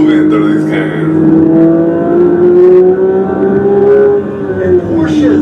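Porsche 911 GT3 with a flat-six engine and PDK gearbox accelerating through corners, a loud close engine note rising and falling with rpm while a voice talks over it.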